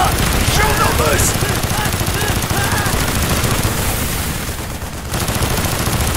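Dense gunfire in Call of Duty: Black Ops: rapid machine-gun bursts and heavy shots blend into a loud continuous barrage that dips briefly toward the end, with shouted voices mixed in.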